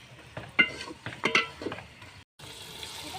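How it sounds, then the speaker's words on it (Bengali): Marinated chicken with ginger, garlic, green chili paste, turmeric, chili powder and salt drops into hot mustard oil, giving a few close bursts of sizzle and spatter that settle into a quieter fry. "ম্যারিনেট করা চিকেনগুলো আমরা দিচ্ছি।"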